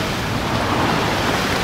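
A sailboat sailing hard on the wind off Orkney, with steady broadband rush of wind and waves washing against the hull, loud and continuous with no voices.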